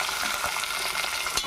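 Two chopped tomatoes and two large onions fry in a pan with turmeric, giving a steady, close, dense sizzle with occasional stirring clatter and no voices.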